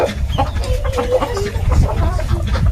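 Native village chickens cluck in steady, overlapping bursts close by, a busy flock chatter that carries on through the whole stretch.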